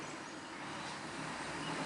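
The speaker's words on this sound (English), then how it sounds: "There's loud cars going back and forth." Road noise near a quarry, with a vehicle passing as a broad, steady roar that swells slightly toward the end, fairly quiet and without voices.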